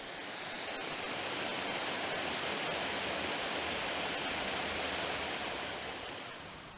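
Waterfall near Dumbarton rushes as a steady, loud broadband roar with no other sounds.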